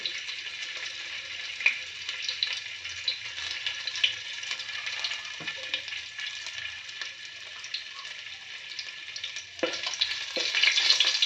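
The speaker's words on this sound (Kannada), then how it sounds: "ಸ್ವಲ್ಪ ಶುಂಠಿ ಬೇಯಬೇಕು, ಇದು ಚೆನ್ನಾಗಿ ರೋಸ್ಟ್ ಆಗುತ್ತೆ ಇದರಲ್ಲೇ." Ginger roasting in hot oil in a pan for fish curry, a continuous bright crackling sizzle heard up close with a few soft stirring knocks, steady throughout with a brief louder burst near the end.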